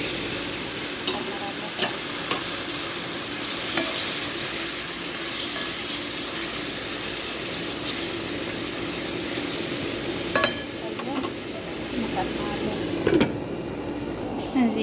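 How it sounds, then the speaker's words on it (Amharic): Tomato goes into a sautéed mixture for a pink macaroni sauce, producing a steady, close sizzle in the pan with scraping and stirring noises throughout. "እንደዚህ ከተቁላላ በኋላ ቲማቲም እናደርጋለን።"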